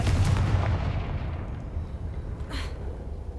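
A Confringo fire spell explodes in the video game Hogwarts Legacy: a loud, rumbling blast that rolls and decays over several seconds, with a brighter crackling burst near the end.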